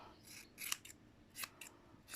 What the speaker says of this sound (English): take a big pair of scissors, and then just trim the bottom bit round